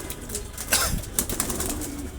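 Racer pigeons in a loft during moulting season make soft throaty coos and rustles close by, with brief flutters and scuffs over steady background noise.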